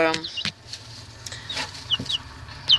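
Chickens kept in an enclosure with rabbits cluck and squawk in short, scattered calls close by, mixed with faint rustling, while a person talks quietly in the background.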